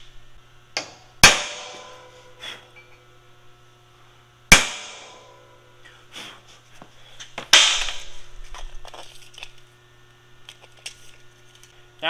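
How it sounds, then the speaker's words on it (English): A hammer strikes a center punch on a steel semi-trailer ramp part in a fabrication shop: three sharp, ringing metallic blows spaced a few seconds apart, each decaying quickly, over a low electrical hum and faint shop clatter. "then I take my center punch"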